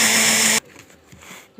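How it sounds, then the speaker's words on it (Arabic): A blender mixing cake batter whirs loudly and steadily for a moment, then cuts off abruptly, leaving near silence with faint knocks. "كل المكونات اهي مع بعض اهي في الخلاط، هضربها"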